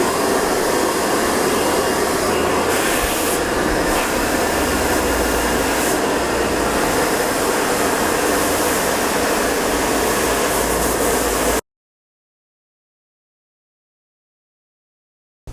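A hair dryer blows on thick curly hair with a loud, steady whoosh close by for about eleven seconds, then cuts to silence, with no talking.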